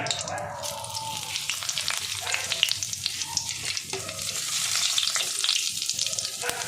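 Whole cumin seeds spluttering in hot oil as a tempering for a koi fish and pointed gourd curry: a busy, crackling sizzle with frequent small pops and some stirring, moderately loud and close, without talk.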